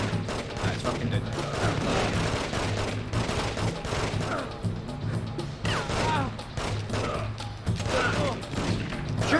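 Rapid gunfire in The Getaway during a police shootout, dense bursts of shots ringing out continuously over busy game noise, with someone talking over the action.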